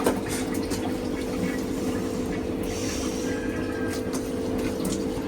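Water pours steadily into a container to wash prawns, a continuous rushing flow heard close up and alone for the whole stretch.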